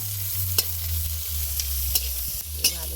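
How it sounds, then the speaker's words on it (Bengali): Onion frying together with dried fish (shutki) in a pan, with a steady sizzle and a few sharp scrapes of stirring spaced through the clip, no voices. "পেঁয়াজটাকে ভালো করে ভেজে নিতে হবে শুটকি মাছের সঙ্গে।"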